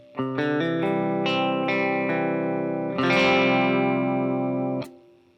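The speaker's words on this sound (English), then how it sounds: "pushing it back with the reverb a hair" Electric guitar playing sustained, distorted chords and notes through an effects chain with a light reverb, a few picked notes building into a strummed chord that rings out, then cuts off with a short tail, no talking.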